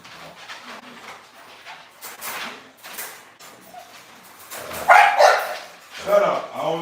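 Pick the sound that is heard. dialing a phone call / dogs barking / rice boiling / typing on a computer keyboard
dogs barking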